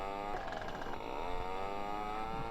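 A rented scooter engine in The Grand Mobile RP game hums with a steady buzzing drone that rises and dips in pitch as it revs, moderately loud and continuous with no talking.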